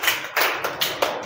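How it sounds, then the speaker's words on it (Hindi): A few people clap in welcome, giving soft, scattered bursts of hand claps spaced about every quarter second, fairly quiet and without any talking. "ताली से स्वागत करें आप लोग इनका।"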